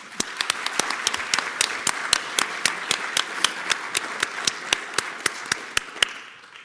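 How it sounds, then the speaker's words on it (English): An audience at the Baltimore Museum of Art exhibition preview applauds, with a continuous wash of clapping and sharp, evenly spaced claps standing out nearby before it fades at the end. "If you can just give them a great round of applause."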